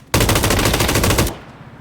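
Automatic gunfire in PUBG (Battlegrounds), a loud, close burst of rapid shots lasting about a second before cutting off into a short fading tail.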